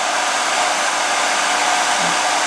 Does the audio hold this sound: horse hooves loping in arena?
no